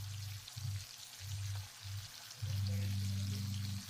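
Chopped onion sizzles in hot oil in a casserole pot, a steady close frying hiss with bursts of low bubbling that swell louder near the end.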